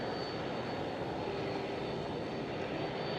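An Icelandair jet taxis quickly toward the gate at Amsterdam Schiphol airport, a steady, loud broadband engine roar that holds constant throughout, with a faint whine riding above it and no voices.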